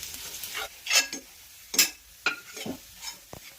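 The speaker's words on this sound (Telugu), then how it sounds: "ఇందులోనే కొంచెం శనగపప్పు, కొంచెం మినపప్పు వేసుకున్నాం. కొన్ని ధనియాలు వేసుకున్నాం. వేయించుకున్నాం." Chana dal, urad dal and coriander seeds fry in a pan, with a light sizzle beneath several separate stirring scrapes of a spoon and a quick knock near the end, heard up close without voices.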